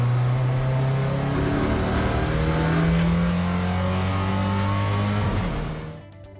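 Several Porsche 944 race cars run side by side at over 180 km/h through a fast turn, a loud sustained engine drone with shifting pitches that holds steady before fading quickly near the end.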